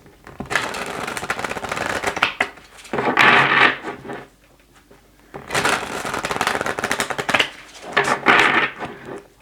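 Tarot cards being shuffled close by, with repeated bursts of riffling, flapping paper separated by short pauses.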